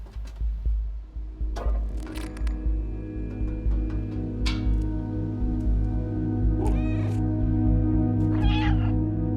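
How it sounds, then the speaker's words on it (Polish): Cat in the video game Stray meows repeatedly at close range, several distinct drawn-out cries spread over a low steady ambient drone and scattered soft thumps. "Samotny kot w takim miejscu."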